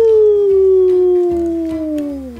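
A person vocally imitates a wolf howling on a mountaintop, a single long sustained howl that slowly falls in pitch, loud and close with no other sound.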